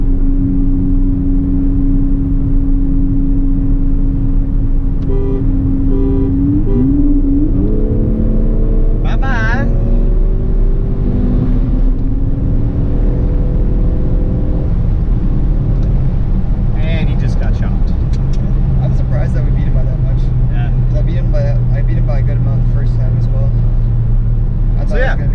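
A 2015 Ford Focus ST accelerates hard while racing, its engine heard loud from inside the cabin with rising tones through the gears and a steady low rumble, people talking over it now and then.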